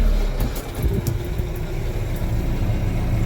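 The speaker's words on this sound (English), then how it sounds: "Fourth gear. We are flying with this chisel disc." A Kioti RX7320 tractor works a field in fourth gear at mid-range revs, pulling a chisel disc, and its engine drones steadily, low and close, with rattling implement noise and no voices.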